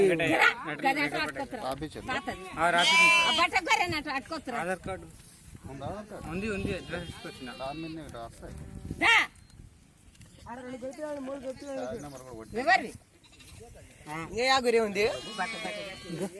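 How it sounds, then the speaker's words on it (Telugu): Sheep bleat repeatedly and loudly at close range while being brought in for PPR vaccination, their calls mixed with people talking throughout and a dog barking at times. "ఇంకా గొర్రెలు కూడా తీసుకొస్తున్నారు"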